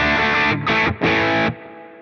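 Electric guitar driven through a Strymon Sunset dual overdrive pedal set to mids only: three chords struck in quick succession, the last held briefly before being cut off, loud and close with a crunchy, mid-heavy tone.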